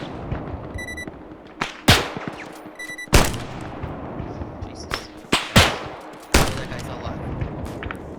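Gunfire in the military video game ArmA: loud, sharp single shots crack out irregularly, some close and punchy with short echoing tails, separated by quieter background rumble and faint distant pops.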